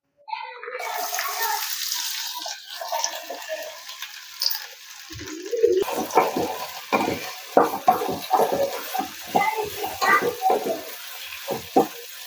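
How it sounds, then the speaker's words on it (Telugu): Cut okra pieces go into a kadai of hot oil with fried tempering spices, and a loud hiss rises at once, settling into a steady sizzle that crackles irregularly, alongside scraping stirs. "తాలింపు దినుసులు వేగిన తర్వాత కట్ చేసుకున్న బెండకాయ ముక్కలు కూడా వేసేద్దాం"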